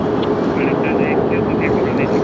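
An airliner bound for Incheon takes off from a single runway at LAX, its engines a loud, steady, broad roar. Someone talks over the engine noise throughout.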